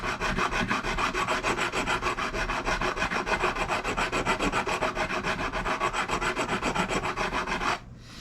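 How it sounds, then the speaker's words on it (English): A metal file rasps steadily across the frets of a Schecter guitar during service, with fast, even back-and-forth strokes running loud and continuous until stopping abruptly near the end. "I'm coming back with this file."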